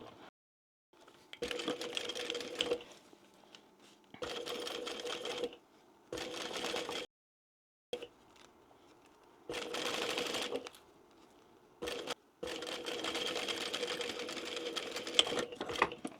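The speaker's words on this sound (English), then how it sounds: "I'm just going to start at that mark, and I'm going to back stitch very well at the beginning" Sewing machine back stitching along a marked line at the start of a seam on an east-west style bag, heard in several short, loud runs of rapid stitching separated by brief pauses, with no talking.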